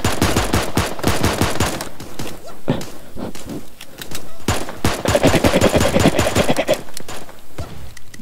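Rapid bursts of cartoonish gunfire from the video game Super Animal Royale crackle in dense, rhythmic volleys, with a few short breaks between them.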